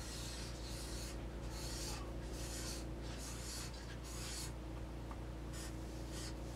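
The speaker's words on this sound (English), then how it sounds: "So draw your caterpillar." A child in a pre-K lesson draws a caterpillar on paper, producing repeated soft rubbing and scratching strokes in bursts, close and steady against a low background hum.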